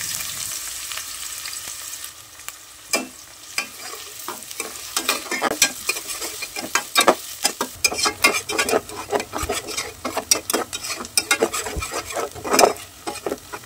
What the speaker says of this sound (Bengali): পেঁয়াজ কুচিটাকে প্রথমে আমি লাল লাল করে ভেজে নিচ্ছি।